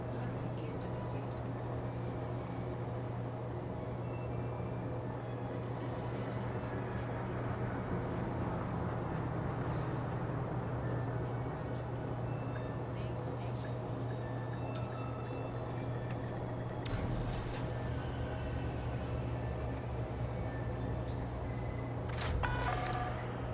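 A spaceship touching down with landing gear deployed in Elite Dangerous, a steady low engine hum under faint ambient tones, with a couple of brief louder mechanical clunks late on.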